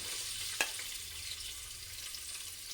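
Ginger and garlic frying in hot oil, a faint, steady sizzle with a brief clink of a utensil early on, quiet and close with no talking.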